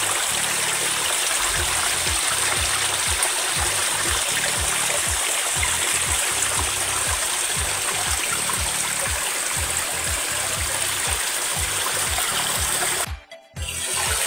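A forest stream flows steadily among large trees, a continuous close rush of water that holds level throughout and briefly cuts out near the end.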